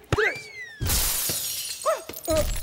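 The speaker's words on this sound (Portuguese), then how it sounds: "Você quebrou o vidro da janela." Window glass shatters loudly after a kicked ball strikes it, a sudden bright crash that sprays and scatters for about a second, framed by short sliding whistle-like sound effects before and after.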